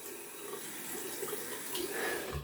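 Cold water running steadily from a tap into a sink, a soft continuous splash with slight shifts in flow, no voices.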